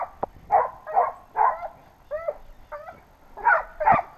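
Wild boar hunting dogs bark and whine nearby in a quick run of about eight yelps and whimpers, some high and strained, with brief gaps between.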